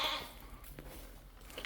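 A newly arrived goat on a farm gives one short, faint bleat amid quiet outdoor background noise.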